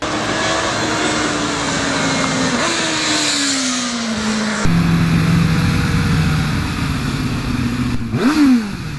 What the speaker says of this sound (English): You got twin pipes here, and it sounds very good with the stock exhaust.